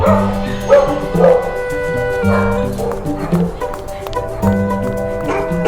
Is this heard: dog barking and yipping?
yes